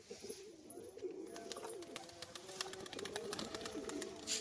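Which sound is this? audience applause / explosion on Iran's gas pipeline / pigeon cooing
pigeon cooing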